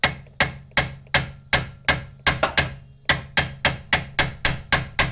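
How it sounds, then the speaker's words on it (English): A hammer striking a seized suspension part on a car with nearly 200,000 miles during an air-suspension install, about sixteen sharp, loud metallic whacks in a fairly steady rhythm, each ringing briefly before the next. "I'm gonna give it a couple whacks."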